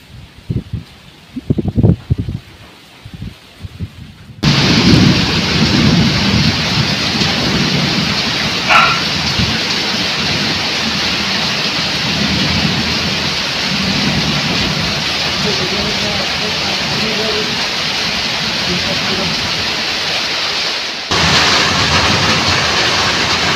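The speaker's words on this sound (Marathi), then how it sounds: "पाऊस मोठा येणार आहे." Heavy monsoon rain pours loudly and continuously in a Konkan village, with rumbling thunder and rustling leaves; a brief stretch of quieter ambience and faint voices precedes the downpour.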